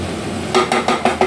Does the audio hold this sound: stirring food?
yes